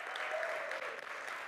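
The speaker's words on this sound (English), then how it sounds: "please give her a round of applause" A conference audience applauds MC Sasha in a brief, fairly quiet burst of many hands clapping together, steady and sustained with no speech over it.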